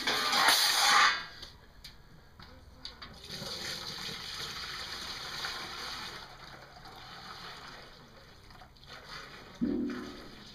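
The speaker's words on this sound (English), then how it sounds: "I'm going to pour the wort through this bag." Homebrew wort for a partial-mash Christmas beer is poured through a straining bag. It opens with a loud gush of liquid, then a steady, quieter trickle and splash, with a brief burst near the end.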